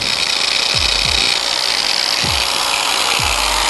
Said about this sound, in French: Et nous allons brancher notre meuleuse. Nous la partons sécuritairement.